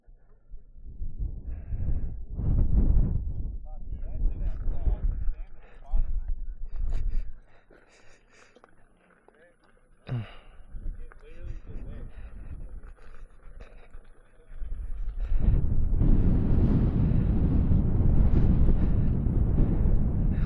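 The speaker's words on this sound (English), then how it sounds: "it's so windy up here" Strong wind buffets the microphone high on an exposed mountainside, loud roaring gusts that come and go, briefly easing then surging to a heavy sustained blast near the end; voices are heard amid the wind.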